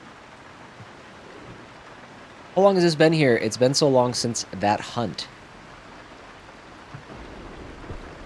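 Steady rain falls during a thunderstorm in the horror survival game DarKnot, a soft continuous hiss under a voice that starts partway through; no clear thunderclap stands out.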